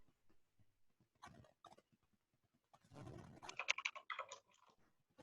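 Keys clatter on a computer keyboard during a Zoom meeting in short bursts, with a busier flurry of rapid taps toward the end and quiet gaps between.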